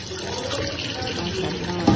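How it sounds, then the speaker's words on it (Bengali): Tap water runs steadily into a sink as hilsa fish are washed, a continuous close splashing stream with no voices. "ইলিশ মাছগুলো আমরা কেটে নিচ্ছি, সুন্দর করে ধোবো।"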